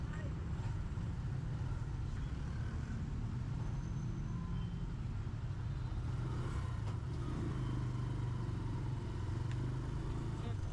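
Steady road traffic in Baliwag rumbles continuously as a dense low wash of passing vehicles, fairly distant and even, without clear individual pass-bys.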